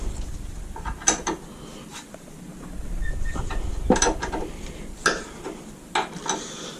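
A ratchet wrench clicks and clacks while loosening the knuckle bolts on an LS-swapped Miata, with irregular close mechanical ticks and metallic knocks over a low background hum.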